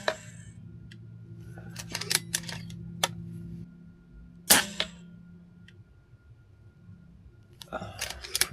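Shots from an MA3 Macavity Arms rifle fired at a chronograph, sharp isolated cracks spaced a few seconds apart over low background hum, with faint clicks between them.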